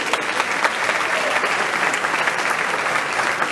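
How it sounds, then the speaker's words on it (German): Audience at a boxing event in a club hall applauds loudly and steadily, a dense continuous wash of clapping with no break across the short stretch. "Nochmal euer Applaus für die beiden Jungs"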